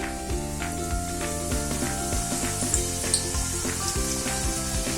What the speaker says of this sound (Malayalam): നമുക്ക് ഓരോന്നും ഫ്രൈ ചെയ്തെടുക്കാം.